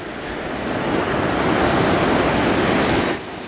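Surf rolling onto a sunny beach, a steady broadband wash of breaking waves with some wind noise, continuous and fairly loud for the whole stretch, then easing slightly at the end, with no voices.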